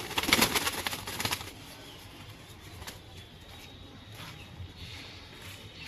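Pigeons coo softly and steadily through the whole stretch, with a brief burst of wing flutter or rustling near the start, recorded close by in a quiet indoor space.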